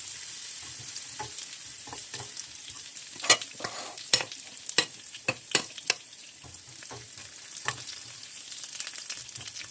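Lemongrass stalks sizzle and crackle in hot oil in a wok for a frog-leg stir-fry, a steady close frying hiss broken by sharp spatters and scraping stirs, with no talk.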